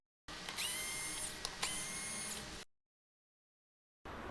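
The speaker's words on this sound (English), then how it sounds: "So now I'm going to take the 2 screws off at the base," A powered screwdriver backing screws out of a BMW R1250GSA motorcycle, two close high-pitched whirring runs with slight bumps in pitch, then a silent pause before the driver starts again.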